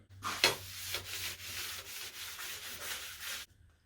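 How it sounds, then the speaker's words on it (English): Rust converter brushed onto old bench vice parts, a continuous close scrubbing swish in a few strokes that stops sharply at the end, with no voices. "it's time to acetone them down and give them a lick of the rust converter"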